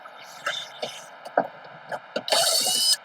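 Two screws being loosened and backed out of a seat fitting with a hand tool, giving intermittent close mechanical clicks and ratcheting scrapes with a brief louder burst near the end, no talk.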